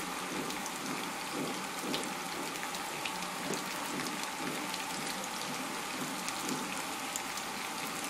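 Yuca pieces brown in a pan over raised heat with salt added, making a steady, soft, even sizzle that continues unchanged throughout.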